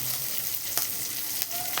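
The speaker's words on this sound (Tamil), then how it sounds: "ஒரு வதக்கி நல்லா சிவப்பாக வதக்கணும்." Onions and tomatoes sauté in a pan for a Tamil anchovy fish curry, crackling with a close, bright sizzle and a few sharp spatters, steady and loud without any talk.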